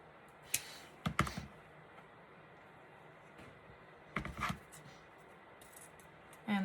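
Scissors snip through a plaid ribbon tail on a gnome Christmas wreath bow, a few sharp close clicks in quick clusters separated by quiet pauses.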